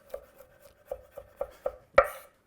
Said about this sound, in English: now I chop the garlic